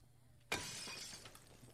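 Glass shatters in Dead Rising 2 Case Zero, a sudden loud crash after a brief quiet moment, followed by a scattering tail of tinkling fragments over about a second.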